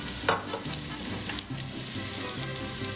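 Rice stirred into a pot of sizzling onion and red bell pepper for Cuban chicken and rice, a steady close frying hiss with soft scraping stirs throughout.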